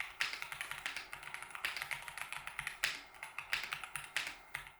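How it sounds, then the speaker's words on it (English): Someone types quickly on a small, heavy wireless keyboard in a gaming PC setup, producing a close, continuous stream of crisp key clicks with brief pauses. "The typing experience on it is really nice."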